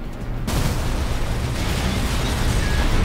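Homing missiles explode in Armored Core 6 PvP combat. A sudden loud blast opens into a sustained rumbling roar of detonations that fills the rest of the moment.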